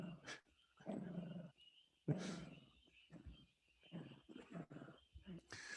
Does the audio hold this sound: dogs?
yes